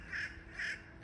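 Crows calling outdoors in damp, rainy air near seagulls, with three harsh caws spaced about half a second apart, fairly loud against a steady background hiss.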